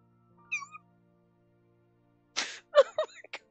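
A kitten meows in the dating-sim video game Piofiore: a thin faint mew first, then after a pause a cluster of several louder, close meows in quick succession.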